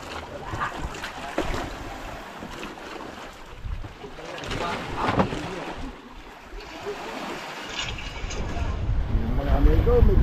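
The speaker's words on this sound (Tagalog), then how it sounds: "medyo na hangin-hangin na yung habagat" Strong monsoon wind buffets a tuna fishing boat at sea, a steady roaring rush with waves and hull noise that grows louder toward the end, with voices talking intermittently underneath.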